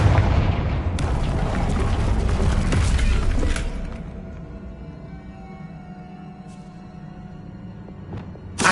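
Confringo blasting spell in Hogwarts Legacy: a loud, roaring burst of explosive rumble and crackle lasting a few seconds, then decaying into quieter rubble and ambient sounds, with a sharp crack near the end.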